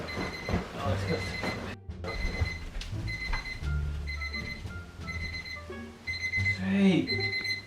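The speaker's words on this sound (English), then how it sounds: "here's all these alarm clocks" Alarm clocks ring in a bright, repeating electronic beep pattern, loud and insistent, over a cluttered indoor background of bumps and other noise.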